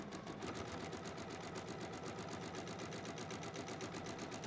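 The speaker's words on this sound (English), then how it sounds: "I'm going to stitch right on top of that line." Close up, a sewing machine stitches along a marked line on quilt fabric with a rapid, unbroken mechanical chatter that holds a steady pace throughout.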